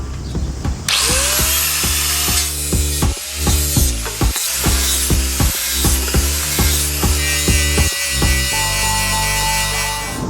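An angle grinder whines loudly and steadily while cutting into a sailboat rudder during a refit, its motor pitch dipping and recovering repeatedly as the disc bites, with no talk over it.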